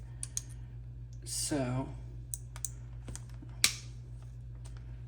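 Glass mosaic pieces for floral petals are cut with a hand tool, producing several sharp, brief clicks and snaps spread irregularly, with a short spoken word partway through.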